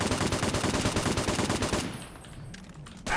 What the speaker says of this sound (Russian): Кто еще стреляет по мне?